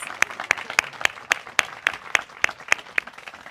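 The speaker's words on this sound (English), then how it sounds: "Let's give them all a round of applause" A ceremony audience applauds newly paired search teams with steady, evenly spaced claps ringing out clearly over a softer background of clapping.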